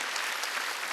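A church congregation bursts into brief, dense applause during a Wednesday worship service, a steady wash of many hands clapping at once for about a second.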